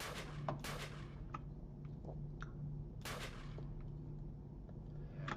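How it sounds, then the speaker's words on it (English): Gunfire in the blocky survival game CastleMiner Z, a handful of sharp cracking shots, the loudest ones near the start and around the three-second mark, plus fainter distant pops over a low steady hum. "There's some shooting."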